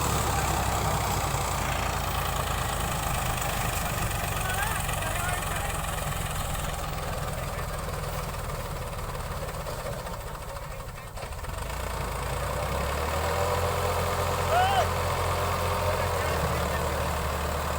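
A tractor engine runs steadily with the throttle opened during a seeder demonstration, a continuous mid-pitched rumble with a dip partway through, loud and close throughout.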